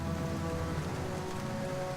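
Steady rain effect laid over a metal show recorded in a basement studio, a constant hiss of falling drops without pause, fairly soft and even throughout.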